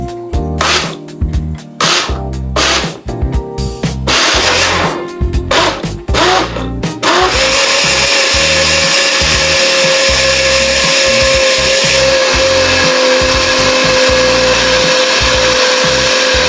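A kitchen mixer grinder blending a blueberry shake runs as a loud, steady motor whine with a constant high hum, after several seconds of choppy starts and pulses; no talking.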